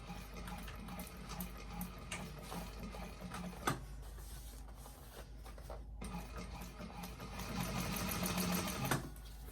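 A sewing machine stitching the seam of a fabric bag runs steadily at close range, with small clatters and handling sounds over a continuous motor hum that swells louder near the end.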